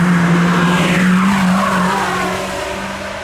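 A Mercedes race car on a timed hillclimb run roars loud and close, its engine note falling as it drives past and pulls away, with tyres squealing.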